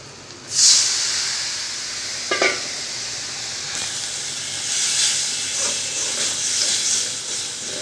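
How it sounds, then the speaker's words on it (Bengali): Water poured into a hot pan of curry spiced with turmeric, chilli and coriander powders for hilsa fish gives a loud burst of hissing steam, then a steady sizzle with light stirring scrapes continuing to the end. "একটু পানি দিয়ে দেবো।"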